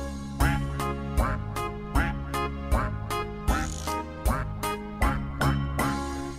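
A cartoon duck's quacks punctuate a bouncy Slovak children's song about five little ducks, landing on a steady repeating beat over bright music, evenly spaced and upfront in the mix.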